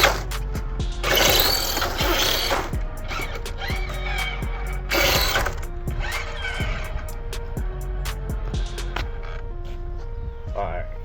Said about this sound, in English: Oh, I'm gonna have to tighten up the spur gear here.